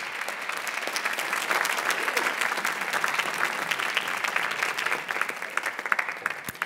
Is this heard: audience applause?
yes